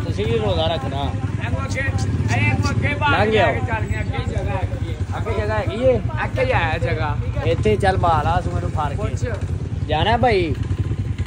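A motorcycle engine running after being started, a steady close rumble under ongoing conversation in Punjabi-Hindi throughout.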